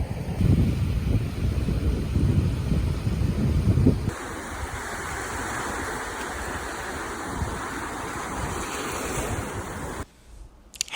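Ocean waves at a beach, a continuous rushing wash of surf mixed with wind noise, heavy low rumble at first and then a softer, hissing spread of breaking water that cuts off near the end.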